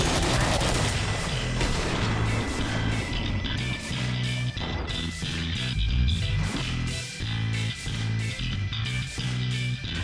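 Cryo Mass Driver 14 freezer gun firing in Killing Floor, a steady loud barrage of repeated shots and booming impacts filling the whole stretch with dense, continuous gunfire and no talking.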